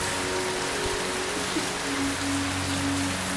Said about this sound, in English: And all you hear is the rain.